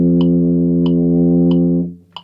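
A sustained low tuba note held steady for nearly two seconds after two breaths, with soft metronome-like clicks ticking at regular intervals above it before the tone fades out.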